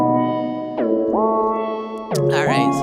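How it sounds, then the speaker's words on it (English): Spring reverb on a u-he software synth, sustained tones swelling into a metallic, splashy wash that rings and repeats, loud and alone with no voices. "so let's check out the spring reverb"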